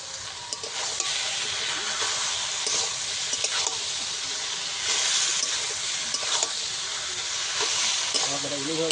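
A paste of ground cumin and ginger with turmeric fries in hot oil, giving a steady loud sizzle and hiss broken by the scrape of stirring.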